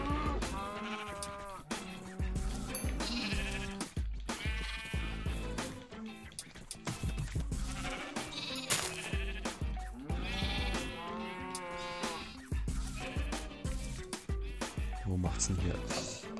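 Sheep in the PS4 edition of Minecraft bleat again and again through the whole stretch, a steady run of quavering calls packed close together with people talking over them.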